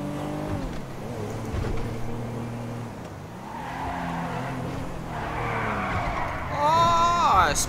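Car in a Grand Theft Auto-style video game skidding and spinning out, a steady engine drone with rising tire squeal toward the end, heard under someone talking.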